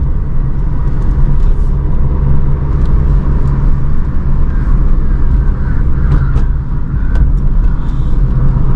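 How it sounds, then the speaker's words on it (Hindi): A car climbs a mountain road in third gear, its engine droning steadily and loudly from inside the cabin with a constant low rumble and road noise, no speech. "अभी गाड़ी थर्ड गियर में चल रही है"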